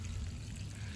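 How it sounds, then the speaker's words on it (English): Water squirting from a hose-fed Mittleider garden watering system onto planted beds, a faint, steady pouring hiss with a low rumble, continuous and unbroken for about a second. "it just hooks up to the hose right there. And then it squirts down water. And it waters my plants."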